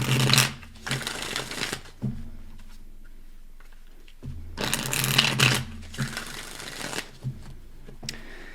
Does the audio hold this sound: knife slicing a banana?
no